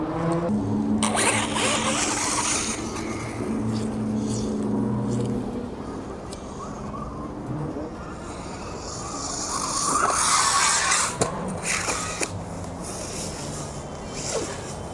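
An MJX Hyper Go H14BM brushless 1/14-scale RC car driven at full throttle, its motor whining and surging in pitch with gravelly tire scrabble, rising to a louder burst near the end, with no talk over it.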